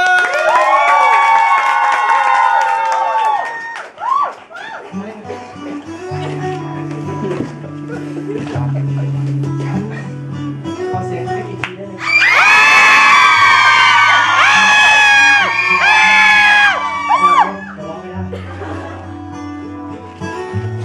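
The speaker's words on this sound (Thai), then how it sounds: "ถ้าพร้อมแล้วขอเสียงปรบมือด้วย" A lively crowd cheers, whoops and shouts for a singer on stage, loud and close, with bursts of excited yelling and music underneath, strongest in a surge midway through.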